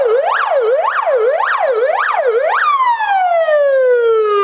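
An ambulance siren arrives at a school in Sochi, loud and close: a rapid rising-and-falling wail cycles several times, then switches to a long descending tone.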